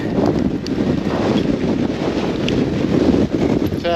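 Steady wind gusting outdoors on an open fell, a constant loud rumbling buffet across the microphone with no pauses.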